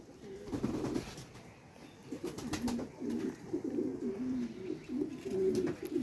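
Pigeons cooing steadily in low, throaty bursts, several birds overlapping close by, with no voices.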